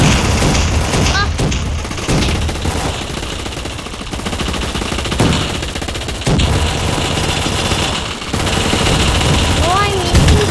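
Gunfire in the gun fight arena video game: dense, continuous automatic bursts mixed with booming shots, loud and close across the whole stretch, with a person talking over the action.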